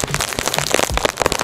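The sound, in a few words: rain falling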